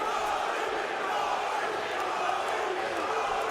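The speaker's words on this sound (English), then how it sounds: "The crowd rallying behind the hometown boy." Arena crowd at a PFL welterweight MMA fight roaring in support of the hometown fighter, a sustained, dense wash of cheering and shouting at a steady level, with a commentator's voice over it.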